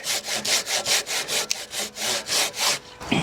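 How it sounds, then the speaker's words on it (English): Hand saw cutting plywood on a carpentry job, with about eleven steady, rhythmic rasping strokes close by, ending in a brief clatter. "I just caught the edge of it with my saw."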